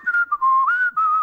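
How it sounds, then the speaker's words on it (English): A cartoon character whistles a cheerful tune up close, a clear run of bright notes with short breaks between phrases and no talking. "I'm whistling a happy tune."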